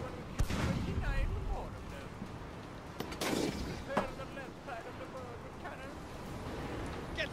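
Ship cannons firing in the naval battle game Blackwake, a few sharp booming blasts over steady wind and water rumble, with voices talking at times during the clip.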